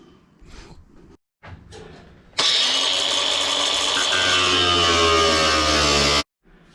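A power saw starts up and runs loud and steady for about four seconds, cutting a hole through the hard hull of an RC boat, then stops abruptly.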